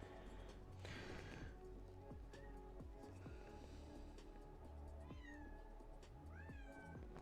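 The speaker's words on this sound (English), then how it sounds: "I don't know if you can hear him meowing" A kitten meows several times indoors, insistent rising cries that stand out clearly against a low background hum, close to the listener and with no talking.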